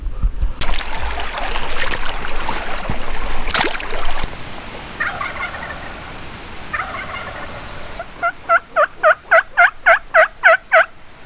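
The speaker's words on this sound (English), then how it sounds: "Tom's just gobbling" A wild mountain turkey gobbles on a ridge across a ravine in Oregon public land, heard first as distant calls over outdoor noise, then as a series of about ten rhythmic, fairly clear gobbles near the end.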